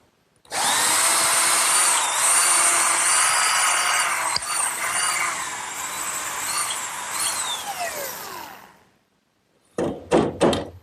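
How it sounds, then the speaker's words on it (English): A power drill bores up through 2x4 lumber, a loud, sustained whine for about eight seconds whose pitch shifts as the bit cuts, then a few quick bursts after a short pause. "And now I want to drill 2 more holes right up through these 2x4s."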